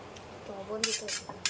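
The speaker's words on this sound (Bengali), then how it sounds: "ডিমটা ফেটে নিতে হবে ভালো করে।" Eggs are beaten in a bowl for a village-style egg toast, giving a few sharp clinking strokes against the bowl while a voice talks in the background.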